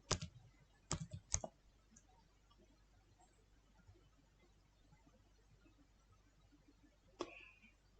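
Typing on a computer keyboard comes as a few quick clusters of crisp key clicks at the start, then a near-silent pause and one more short burst of keystrokes, all close and quiet.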